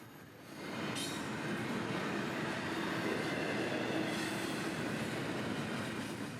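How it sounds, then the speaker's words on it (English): An intermodal freight train led by an AC-44 locomotive rolls through a downtown at about 30 mph, swelling after a second into a loud, sustained roar of wheels with faint squeals and clatter. "with an AC-44 leader and quite the impressive train of intermodal for Winter Haven"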